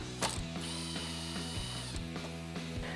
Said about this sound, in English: I'm going to use an 8mm socket to remove that bolt.